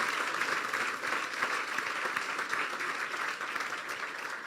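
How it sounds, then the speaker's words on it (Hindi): A church congregation claps for Jesus during a sermon, with even, continuous applause from many hands filling the room at moderate volume, with no break. "तो फिर तालियां बजा दें यीशु के लिए"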